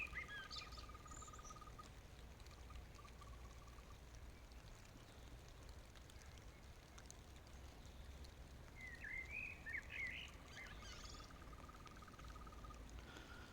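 Green toads trilling in a pond at evening as rain begins, with a blackbird singing above them, all faint and distant over a steady hiss of insects.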